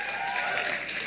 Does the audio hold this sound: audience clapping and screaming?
yes